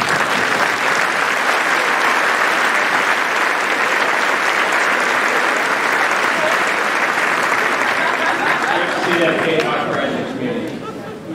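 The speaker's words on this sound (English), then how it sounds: "Let's give them a round of applause." A graduation ceremony crowd gives a loud, sustained round of applause for the class of 1993 alumni, a thick continuous roar of many hands that stays strong throughout and tapers slightly near the end.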